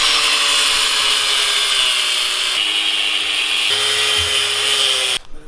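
Power tool grinding through a steel steering knuckle on a Dodge Hellcat during a drift angle kit install, a loud sustained abrasive whine close by that shifts pitch as it bites, then cuts off at the end.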